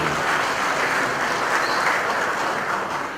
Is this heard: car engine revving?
no